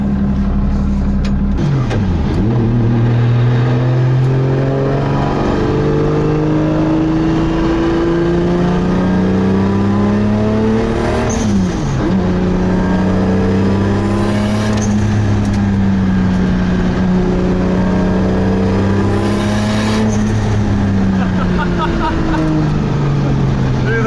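A Nissan 240sx drift car with a 1JZ engine and GTX3076r turbo revs repeatedly, its loud engine note rising and falling in steady sweeps from close by while people talk over it.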